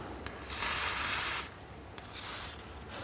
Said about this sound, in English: Keep forgetting to buy some darn WD-40, which this is probably pretty much the same thing, but some garage lube.